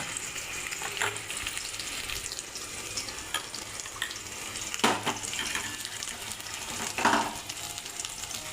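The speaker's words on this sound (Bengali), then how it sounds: "দেখো, আমি মশলার পেস্টটা দিয়ে দিলাম। লঙ্কা, আদা আর জিরে," A spice paste of chili, ginger and white cumin sizzles and fries in a pan for a katla fish curry, giving a steady hiss with a few louder spitting bursts and occasional stirring, and no voices.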